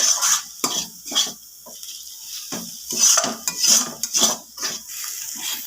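Filling ingredients for a crispy stuffed flour snack fried and stirred in a pan, heard as close, irregular bursts of spatula scraping and clatter against the pan with a faint sizzle between strokes and no talking.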